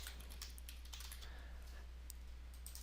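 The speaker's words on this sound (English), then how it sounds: "I could come out here and just type in some text" Quiet, rapid tapping on a computer keyboard, a steady run of light key clicks over a low electrical hum.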